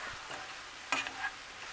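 Chicken and turkey with peppers cooking in a pan, a steady quiet sizzle broken by a few short spatula scrapes and clinks near the middle as the mixture is stirred.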